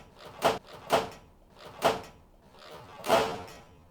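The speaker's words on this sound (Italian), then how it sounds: "quindi i cassetti non sbattono" Soft-closing drawers on a workshop tool cart, lined with 2 mm EVA neoprene and fitted with self-locking, give four muffled closing thumps spaced about a second apart, fairly quiet and with no slam.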